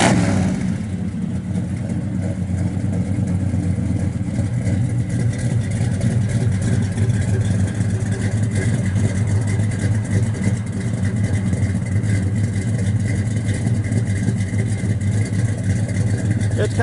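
A 1966 Chevrolet Chevelle SS 396 with a four-speed idles steadily at the rear on a chilly 38-degree day, its deep, even exhaust rumble loud and close throughout.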